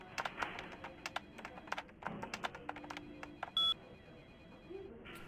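Telephone dialing in Vampire: the Masquerade Bloodlines, a quick run of clicky key presses and short tones at moderate volume, with a brief sustained beep partway through.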